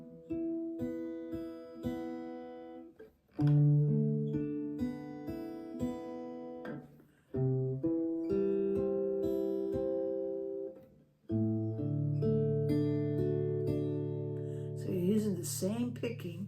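A PRS electric guitar plays a picking exercise, with clean notes picked one by one across the strings as arpeggios. It moves through several chord changes, heard alone without talk.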